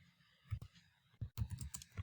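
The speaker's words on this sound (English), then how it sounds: "now I press my tab key, and I will start typing" Typing on a computer keyboard while entering text into a CV template, heard as a faint, close run of soft irregular key clicks and taps with short pauses, no speech.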